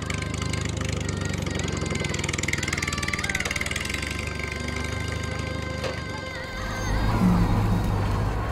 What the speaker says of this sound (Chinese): 驾驶拖拉机负责收割